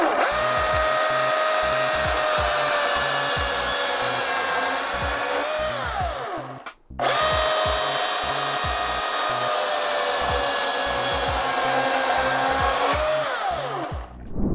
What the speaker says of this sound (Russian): посмотреть, на что способна данная пила